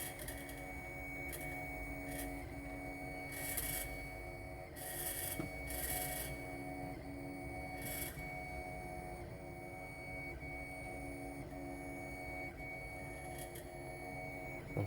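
A Monoprice Mini (Malyan M200) 3D printer rattles steadily while printing PLA, with a constant stepper-motor whine and irregular short bursts of rattling, quiet and close, with no speech.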